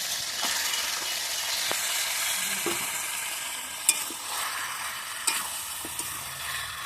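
Mutton and papaya fry in a pan with a steady sizzle, and a spoon stirs and scrapes now and then. A few sharp clinks stand out near the end. No one speaks.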